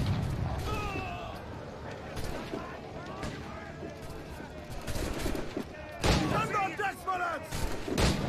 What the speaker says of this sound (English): What the hell exploded over there?